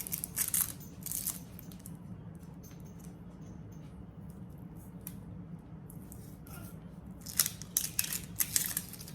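Knife cutting through a zucchini on a board, a few crisp bursts of slicing at the start and again near the end, with a low steady background hum between them and no talking.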